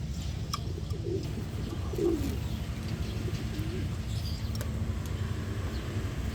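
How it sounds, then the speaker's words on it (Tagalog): Pigeons coo softly and repeatedly over a steady low background hum, with a faint chirp here and there. "update naman sa mga ibon guys na breeders natin"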